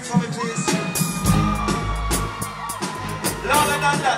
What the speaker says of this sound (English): can you scream for me, please?